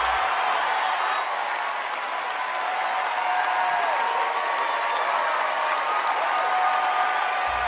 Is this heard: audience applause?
yes